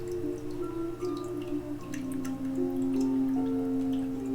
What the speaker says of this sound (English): The ripple of the water grows louder.